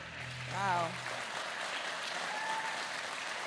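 Applause from an audience at a Texas youth summit event, a steady spread of clapping that carries on for a few seconds, fairly faint and distant, with a voice briefly speaking over it.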